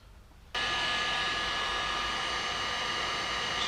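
Heat gun shrinking heat shrink tubing over soldered motorcycle wires, a blower that switches on abruptly after a quiet start into a steady, close, hissing roar.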